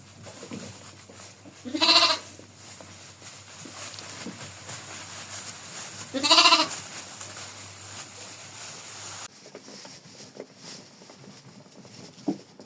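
Two loud bleats from a sheep or lamb, a few seconds apart, stand out over a quiet barn background.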